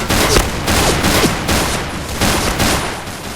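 Video game gunfire as a headshot is scored, with loud, rapid bursts of shots repeating in quick succession and a trailing echo, close and dominant with no voice over it.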